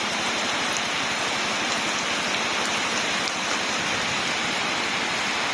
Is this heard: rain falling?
yes